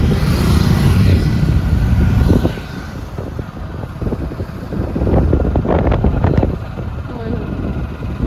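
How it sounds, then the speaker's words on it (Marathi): Strong wind buffets the microphone outdoors with a steady low roar, easing after a couple of seconds and then gusting again, while faint talk sits underneath. "वारं इतकं यांच्या वाऱ्यानं ना टोपीच पडली खालती इथं."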